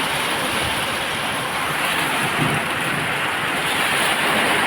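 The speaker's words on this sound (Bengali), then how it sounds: "বাইরে সেই পরিমাণে বৃষ্টি হইতে আছে" Heavy rain from a Kalbaishakhi storm roars continuously, a thick, even wash of noise with a low rumble underneath and no voices.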